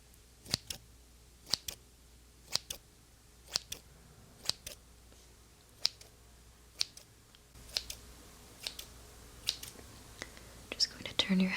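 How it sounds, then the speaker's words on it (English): Scissors trim the ends of hair in close, quiet, crisp snips repeated at a steady pace of roughly one per second, with soft whispering and faint rustling between cuts. "let's just start by trimming the ends a little bit"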